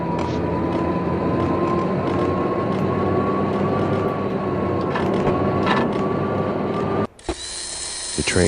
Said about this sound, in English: The train lit up like a Christmas tree. Power was back on. That is loud as crap.